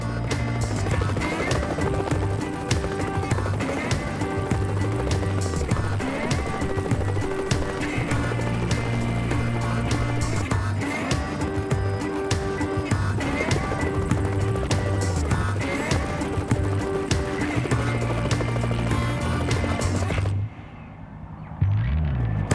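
Wild Australian horses gallop, hooves drumming steadily beneath a loud rumbling backdrop, with occasional whinnies, the herd's pounding continuous until it abruptly cuts off near the end.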